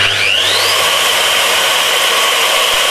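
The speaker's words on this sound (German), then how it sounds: "Und die Maschine bohrt von alleine." A Fein KBM 50 core drill running clockwise whines steadily and loudly, its motor pitch briefly sweeping upward at the start before settling into a constant grinding drone.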